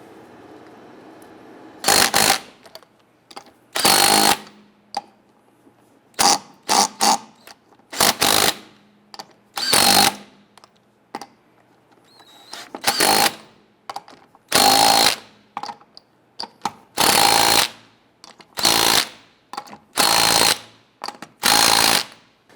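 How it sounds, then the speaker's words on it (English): Power impact tool tightening the rear wheel lug nuts on a 1997-2006 Jeep Wrangler, with repeated loud, close bursts of rattling hammering separated by short pauses, about a dozen bursts. "Torque the lug nuts down to 100 foot-pounds."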